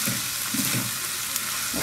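Surinamese bean sprouts (tjapar) with dried fish fry in a pan, a close, steady sizzle with soft stirring scrapes, no talking.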